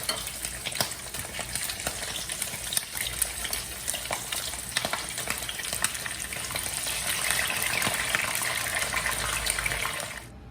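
Beef ribs (tadyang) with no flour or cornstarch coating deep-fry in hot oil for a second fry. A steady, dense, close crackling sizzle runs throughout without talk.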